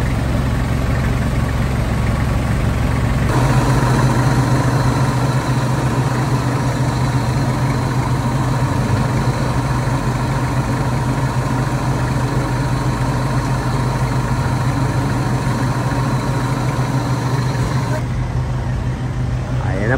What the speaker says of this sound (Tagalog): Ganyan po kalakas yung auxiliary fan.